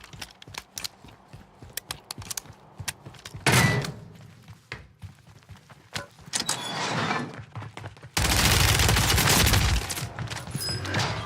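In a shooter video game, gunfire arrives as irregular bursts of sharp shots, with a heavy boom partway through and a dense roar of noise near the end; no speech.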